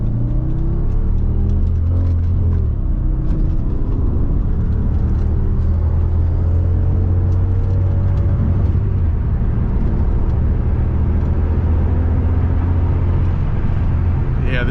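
A 2007 Audi S6 with the 5.2L V10 and quattro drive accelerating hard up a city on-ramp, heard from inside as a loud, sustained engine roar rising in pitch through the gears, with constant road rumble.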